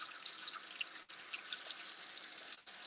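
Water trickling from a cup into a hot pan to make homemade gravy, a soft steady pour with light sizzling hiss, heard close and fairly quiet with two brief pauses.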